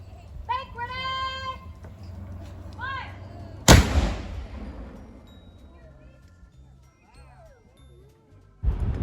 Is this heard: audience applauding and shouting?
no